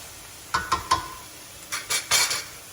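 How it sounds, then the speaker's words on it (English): Cauliflower pieces being broken up and stirred around a pan for pasta, heard as a few sharp close clinks and scrapes of a utensil against the pan in two short bursts, with no talk. "you're going to like break up the cauliflower into smaller pieces and just mix it around there"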